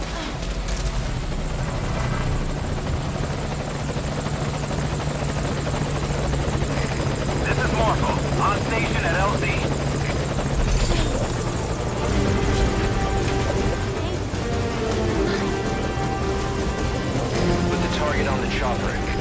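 Helicopter rotor in Metal Gear Solid Peace Walker, the Morpho chopper arriving at a landing zone: a steady, loud beating drone that fills the whole stretch, with talk over it.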